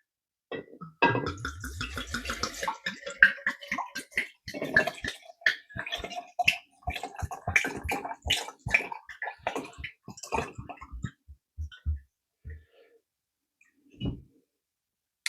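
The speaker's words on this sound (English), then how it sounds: "you're going to fill this all the way to the top" Liquid is poured into a jar of vanilla beans for homemade extract, giving a stream of gurgling, splashing glugs that grow sparser and then stop, with a few late drips.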